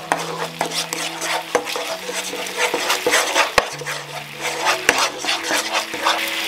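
Sauce of oyster sauce, chili sauce, sugar and cooking wine being stirred in a pan, with steady scraping and clinking of a utensil against the pan over a low sizzling hiss.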